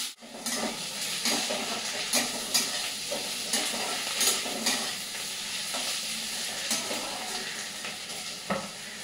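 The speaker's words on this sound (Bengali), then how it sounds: "আলু আর সিমটা ভালো মতন একটু লাল লাল করে ভেজে নেব" Potatoes and broad beans sizzle steadily in a hot pan, a continuous frying hiss broken by repeated scraping stirs and occasional clinks of the utensil, close and moderately loud with no talking.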